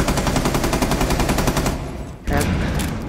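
Rapid automatic gunfire from Rainbow Six Siege, dense and loud, rattling steadily before a brief drop and a resumed burst of shots near the end.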